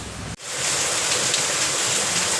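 Heavy monsoon rain pouring down with wind, a dense, steady roar of falling water that starts abruptly after a brief cut and continues loud and unbroken, without voices.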